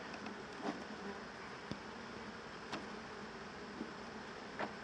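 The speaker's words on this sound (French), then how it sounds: "Je tombe les abeilles là" Honeybees buzzing around an open hive during a hive change, a faint continuous drone with a few brief closer passes.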